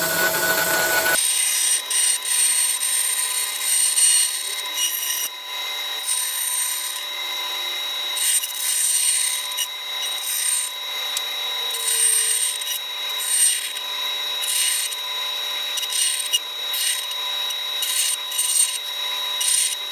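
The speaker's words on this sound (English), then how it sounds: "let's just bandsaw this out then" Bandsaw cutting out the wood body of a 1958-style Flying V guitar, a steady close rasping hiss of blade through timber that runs continuously with small surges in intensity, no one talking.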